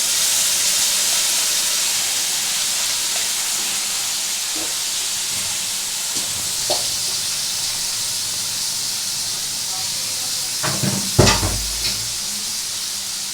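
Ground spice paste with prawns frying in a wok in a Bengali prawn curry with potato and pointed gourd, loud steady sizzle and hiss throughout, with a few stirring scrapes and a knock near the end.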